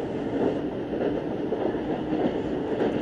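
A train rumbles steadily along the rails, a continuous close, low roar with faint rhythmic clatter and no voices.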